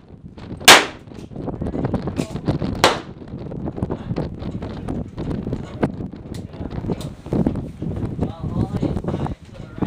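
Pistol shots ring out at an outdoor shooting range, a few sharp loud cracks spaced irregularly, followed by softer pops and handling noise while people talk nearby.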